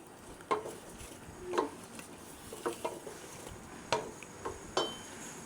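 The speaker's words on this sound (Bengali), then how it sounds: "এবার জলটা ফুটে উঠেছে, লাউ দিয়ে দেব। এবার নাড়াচাড়া দিয়ে" Spoon stirring bottle gourd in boiling water in a pot, soft scraping knocks against the pot at irregular intervals over a faint steady bubbling background, close and fairly quiet.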